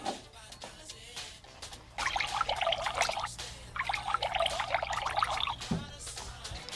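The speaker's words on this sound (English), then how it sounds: "Pour some water into 2 identical glasses." Water poured into two identical drinking glasses, a trickling splash in two bursts separated by a short pause, fairly close, with a little background sound.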